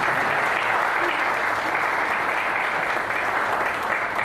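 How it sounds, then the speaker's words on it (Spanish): A crowd at a public event in Sabinas Hidalgo, in northeast Mexico, gives the mayor a strong round of applause, a full, sustained roar of clapping that stays even and unbroken throughout. "para quien pido un fuerte aplauso."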